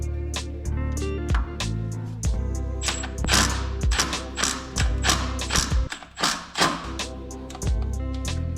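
A small impact wrench hammers at a stuck Torx bolt in an Evo 8 engine, firing repeated rapid rattling bursts close by with short pauses between, and no talking.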